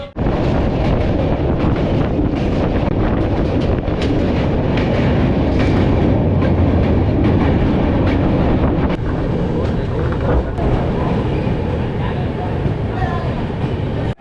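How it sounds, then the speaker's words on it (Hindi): The Vaishali Express arriving at Hajipur station in India, heard from on board: a continuous loud rumble of rolling rail cars with faint rattles and wind noise throughout. "ट्रेन हमारी पहुंच चुकी है हाजीपुर।"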